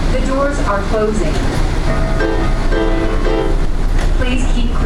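An automated airport train at Denver airport rumbles loudly and steadily from inside the car as it closes its doors and departs, with voices mixed into the constant rolling noise.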